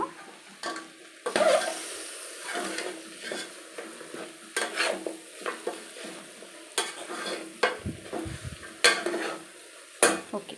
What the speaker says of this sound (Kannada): ಇಷ್ಟು ಸ್ವಲ್ಪ ಮಿಕ್ಸ್ ಮಾಡ್ಕೊಳ್ಳೋಣ